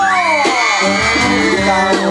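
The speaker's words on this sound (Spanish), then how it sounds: "Y el grito de las que quieren su disco." A live banda concert crowd in Tala, Jalisco, Mexico yells, whoops and cheers loudly and continuously, with shouts rising and falling throughout.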